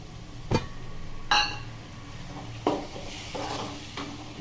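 Chicken is added to an onion-tomato masala gravy in a pan. A few sharp utensil clinks and clatters sound against the cookware over a soft, steady sizzle.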